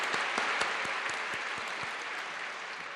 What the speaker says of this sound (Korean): 우리 감사의 박수를 하나님께 영광의 박수 올려드리겠습니다.